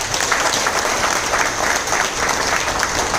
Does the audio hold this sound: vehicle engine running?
no